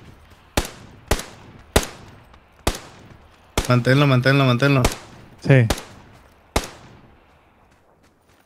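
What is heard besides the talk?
gunshots in PUBG video game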